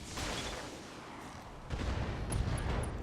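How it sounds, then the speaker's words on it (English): An ammo explosion in the mech combat game BattleTech, a rumbling blast with crackling bursts that swells and intensifies partway through, dense and steady. "Ooh, ammo explosion."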